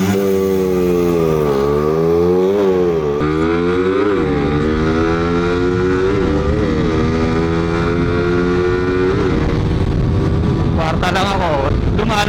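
Stock-engine underbone motorcycles, including a Suzuki Raider, scream through a drag race, loud high-revving engines climbing and shifting in repeated rising sweeps over about twelve seconds.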